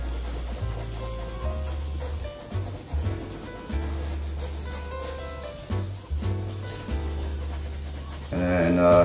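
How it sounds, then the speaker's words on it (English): A paintbrush rubbing paint onto a black canvas for a seascape, repeated scrubbing strokes in a steady back-and-forth rhythm with soft background music underneath, close and moderately loud. "Just wanna rub some of this color in here"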